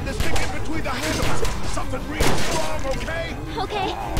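Gunfire in The Walking Dead video game: a few sharp shots, one especially hard bang near the middle, crack through a dense, busy game soundscape while people talk and exclaim over it.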